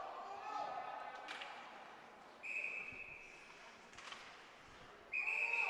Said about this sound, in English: we've got a whistle